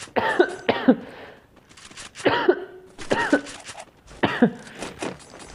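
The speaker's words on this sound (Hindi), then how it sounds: "इतनी गंदी खांसी आती है मेरे को" A man coughs hard in harsh bursts, one double cough followed by three more separated by short pauses, close and loud with no talk.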